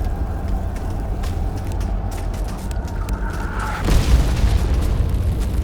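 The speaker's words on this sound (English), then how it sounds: "Another explosion hit" In a Warhammer 40K story, a deep, heavy boom of an explosion bursts in over a steady low rumble, its broadband roar swelling and lingering for a couple of seconds.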